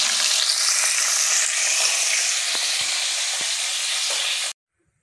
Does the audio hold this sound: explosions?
no